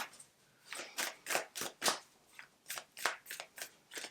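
Moonology Oracle cards being shuffled, a rapid run of crisp riffling bursts in quick succession, close and fairly quiet with no voice over it.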